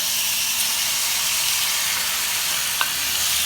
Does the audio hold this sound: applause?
no